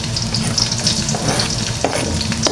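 Loud, close sizzle of ingredients being sautéed in a pan for adobong pusit, squid adobo, with a continuous frying hiss and occasional scraping stirs, no talking.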